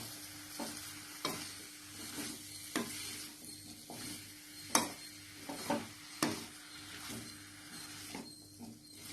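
Chopped chayote (chow chow) is sautéed and tossed in a pan. A soft sizzle runs underneath, and several sharp clinks and scrapes of a spatula against the pan come at irregular intervals.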